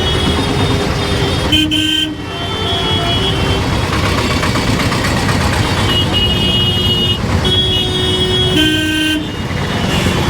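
Heavy road traffic near the India-Pakistan border crossing, with signals out. Several short horn toots sound over a constant engine rumble, loud and close.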